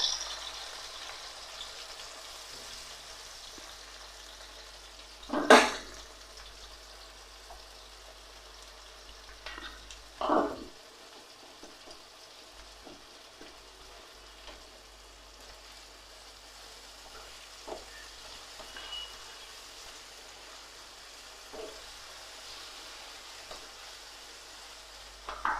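Masala paste for a paneer and potato curry fries in a pan with a quiet, continuous sizzle, broken by a few sharp louder bursts and clatters as it is stirred.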